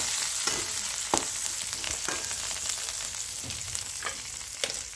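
Vegetables sizzling in a hot pan while being stirred, a steady frying hiss broken by regular scraping strokes of a spoon, close and without talking.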